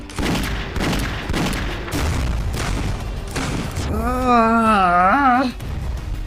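Explosions in a video game: a series of heavy booms in quick succession over the first few seconds, followed by a sustained wavering tonal whine, loud and close, with no speech.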